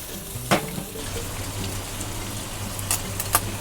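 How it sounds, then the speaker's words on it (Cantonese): Dried seafood, including dried shrimp, sizzles in hot oil in a wok, a steady close crackle with a few sharper pops and spatters and no talking over it. "咁我哋就稍為咧叫做爆一爆香，因為呢啲乾海鮮咧，你唔過油咧係爆唔香嘅"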